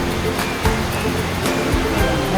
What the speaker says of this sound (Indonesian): dan kita putar sambil air mengalir supaya dia istilahnya memperlancar di bagian penggilingan di sini